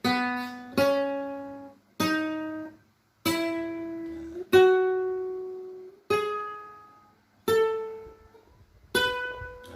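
Single guitar notes plucked one at a time on the second string in a slow ascending scale in E, each ringing out and decaying before the next, about eight notes, alone.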